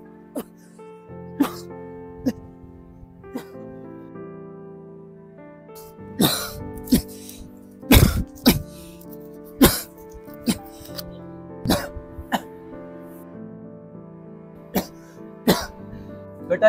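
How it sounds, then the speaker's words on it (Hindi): Repeated sharp coughs at irregular intervals, some louder and closer, over a low steady tone with sparse sounds between them. "खांसना क्यों नहीं बंद हो रहा अभी तक?"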